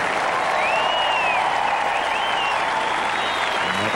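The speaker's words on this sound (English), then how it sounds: "Agassi leaves the court to rapturous applause." Rapturous applause from the tennis crowd at Queen's after Roddick beats Agassi in the 2003 semifinal, a dense continuous roar of clapping with faint whistles above it.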